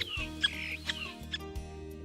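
Birds call in the morning, a few short clucking and chirping notes over a steady low background hum, faint and spaced out.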